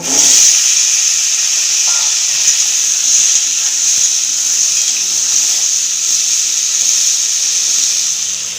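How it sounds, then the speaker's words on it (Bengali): Potatoes frying in hot oil in a kadai, the same oil used for prawns, for a homestyle prawn malai curry: a loud, steady hiss of sizzling fills the whole stretch with no talking. "সেই তেলে আলু ভেজে নেব"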